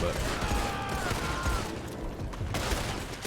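Gunfire in Red Dead Online comes as repeated bursts of shots over a busy game soundscape, with a couple of thin tonal streaks and scattered impacts in the background.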